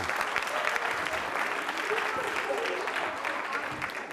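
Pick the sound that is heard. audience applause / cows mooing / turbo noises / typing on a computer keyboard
audience applause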